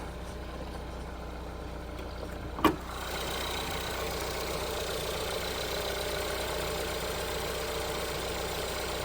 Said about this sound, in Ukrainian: Зараз також покажу вам під капотом цього звіра. Працює рівненько, тихенько.